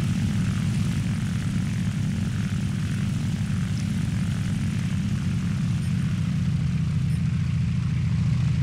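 Propeller engine of a FW-190 A1 fighter plane in the War Thunder video game drones steadily and loudly throughout, a deep continuous roar with no talk over it.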